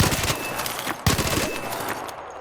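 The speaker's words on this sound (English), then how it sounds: "the fire rate on this gun is ridiculously fast" Rapid automatic gunfire in ARC Raiders: two fast bursts of sharp, closely spaced shots, loud and near, separated by a brief gap.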